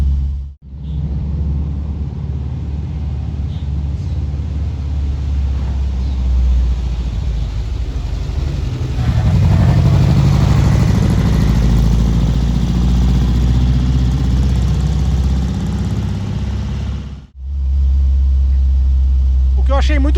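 VW Golf GTI fitted with an air-cooled Beetle engine, running with a deep steady rumble that swells louder midway, heard close by under ongoing conversation.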